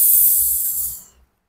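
Oil hisses in a small pan on a toy mini kitchen, a steady high spray-like sizzle heard alone that holds briefly and then cuts off.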